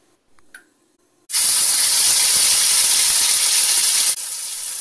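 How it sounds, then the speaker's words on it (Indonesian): A ground spice paste drops into hot oil and bursts into a loud, sudden hissing sizzle that holds steady for about three seconds before easing slightly, after a few faint clinks. "Siapkan bumbu yang sudah dihaluskan untuk digoreng."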